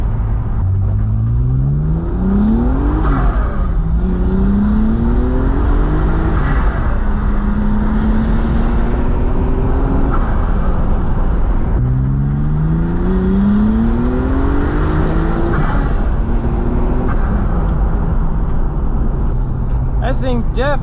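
A supercharged BMW E36 M3 engine warming up, heard from inside the car, with repeated rising and falling revs and a whining supercharger over a constant loud drone; a voice talks at times.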